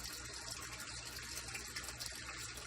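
Water from a 1,000-gallon-per-hour pump pouring steadily into a 55-gallon DIY moving bed filter tank, a continuous rushing, gushing flow with no pauses.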